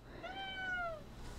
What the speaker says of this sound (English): I think it's feeding time for the kitty.